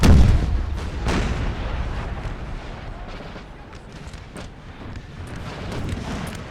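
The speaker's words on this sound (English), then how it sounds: "This artillery just ripping through these units here." Artillery fire in the Napoleon Total War video game, during the Battle of Waterloo assault on La Haye Sainte: a dense, continuous barrage of heavy booms and crackling musketry, loudest at the start and rolling on without pause.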